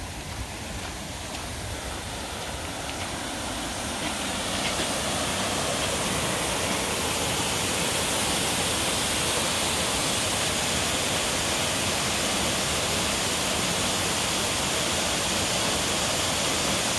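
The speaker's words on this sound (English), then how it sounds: "These are 80-foot falls, two of them," Paulina Falls in Oregon, a pair of 80-foot twin waterfalls running low, gives a steady, dense roar of falling water that swells slightly in the first seconds and then holds constant, heard from close range with no voices.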